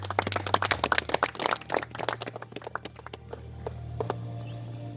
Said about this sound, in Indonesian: aplaus buat Awe.